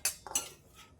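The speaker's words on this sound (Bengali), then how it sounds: "সেদ্ধ হয়ে গেছে, এখন আমি একটা পাত্রে তুলে নিচ্ছি।" Boiled soybeans are scooped from a cooking pot into a bowl in a home kitchen, with a few sharp metal clinks of spoon against vessel early on and softer scraping toward the end.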